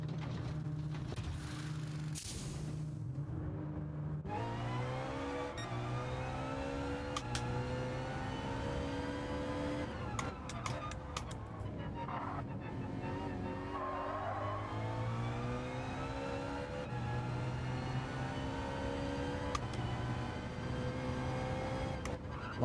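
A Ferrari race car engine at Deep Forest Raceway in Gran Turismo 7 drones loudly and steadily, its pitch climbing and dropping repeatedly through gear changes, with no voices.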